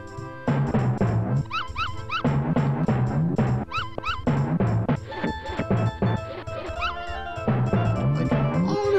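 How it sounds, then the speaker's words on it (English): Cartoonish puppies in Earthworm Jim 2 yelp and bark in quick repeated bursts over bouncy game music, loud and close, with pitched whimpering yips recurring throughout. "You threw 9 puppies there!"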